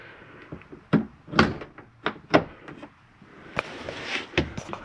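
A door on a Jayco Whitehawk 28DSBH travel trailer is swung up and latched, giving a series of close thunks, knocks and rattling clatter with uneven pauses between them.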